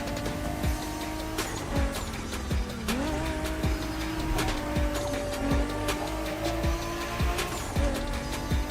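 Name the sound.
Toyota Supra driving in video game The Crew Motorfest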